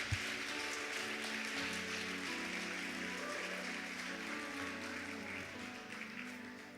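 Church congregation applauding through a sermon: a steady wash of clapping fills the whole stretch at moderate level, with a sustained musical tone underneath.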